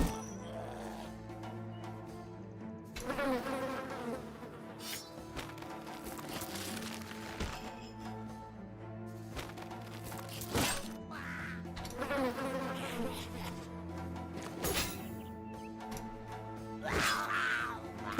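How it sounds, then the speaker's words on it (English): A buzzing mosquito swarm effect from a video game drones steadily, with faint game sounds and occasional sharp clicks over it. "I hate mosquitoes so much. When I hear that sound effect"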